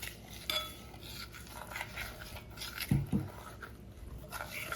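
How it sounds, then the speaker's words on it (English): A utensil stirs and scrapes through a thick pernil seasoning paste loosened with olive oil in a bowl, soft continuous mixing with occasional faint clinks against the dish, quiet and close. "I'm just going to mix this seasoning up to get ready to put it on my meat"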